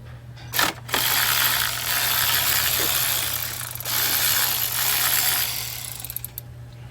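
A 10 mm ratchet works on the coil pack bolts of a 2002 Toyota Tacoma 2.4, giving sharp clicks and a sustained close metallic whirring rattle, ending in a few scattered ticks.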